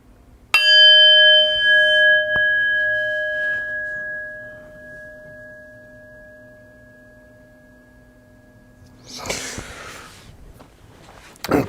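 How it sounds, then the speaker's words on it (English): A meditation bell struck twice, ringing out with long, clear tones that slowly fade over several seconds, followed by soft rustling near the end. "I will ring the bell, ending our last round of meditation"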